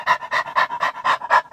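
A voice imitates a little lap dog panting, giving quick, close, evenly spaced huffing breaths, about seven in a row.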